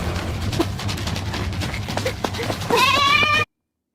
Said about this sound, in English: Wait, is that a goat?